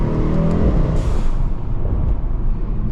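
A Mercedes-AMG GT63S on a night drive in Miami, its engine roaring under acceleration, then easing off with a few sharp exhaust pops and crackles, close and loud.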